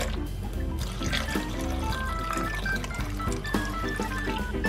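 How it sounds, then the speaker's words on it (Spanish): Water pours steadily into a blender jar holding chopped lemons for homemade lemonade, a continuous close gurgling trickle with rising bubbly tones as the jar fills. "Agregamos el agua."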